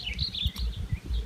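Sooty-headed bulbul, the kutilang, singing in the morning in a rural Sundanese setting of stilt houses: short bright warbling phrases repeat through a brief stretch over a low outdoor rumble, moderately near and not loud.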